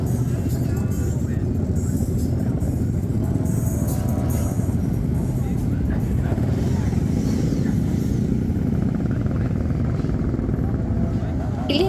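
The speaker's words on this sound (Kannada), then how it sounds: "ಬೈಕರ್ ಶಬ್ದ ಕೇಳಿಸ್ತಾ ಇರಬೇಕು ಇಲ್ಲಿರೋದೆಲ್ಲ ಆಲ್ಮೋಸ್ಟ್ ಸೂಪರ್ ಬೈಕ್ಸ್" Superbikes of a Japanese bōsōzoku biker gang rumble and rev on a crowded street during Halloween festivities in Japan, a dense, continuous roar of engines heard from a moderate distance.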